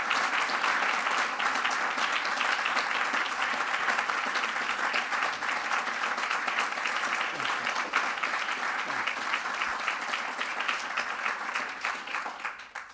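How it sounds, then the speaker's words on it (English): An audience at a hospital annual meeting gives sustained, dense applause as an honoree walks to the stage. The clapping stays even and full throughout, then fades out at the end. "Give him a round of applause as he comes forward"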